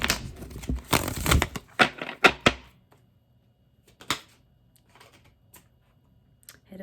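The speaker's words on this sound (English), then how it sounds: "If I can manhandle these cards enough to shuffle them." A deck of tarot cards being shuffled by hand, a run of close, crisp riffling and slapping card sounds for about three seconds, then a few isolated soft taps in near silence.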